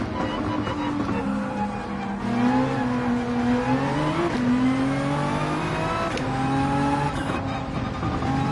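A race car in Gran Turismo 7 holds a steady, loud engine drone, pitch rising and dipping as it accelerates out of corners and shifts through gears, continuous for several seconds with no talk.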